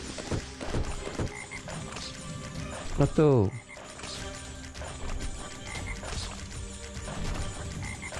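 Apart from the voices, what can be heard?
frogs croaking in the video game Guardians of Holme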